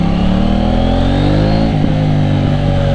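A 2018 KTM 790 Duke motorcycle engine revs continuously while riding, with rising harmonic pitch sweeps as it accelerates through smooth quickshifter gear changes, loud and close throughout.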